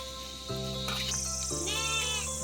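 Goat bleats in a couple of drawn-out, wavering calls, fairly close, over a steady low background hum with no talking.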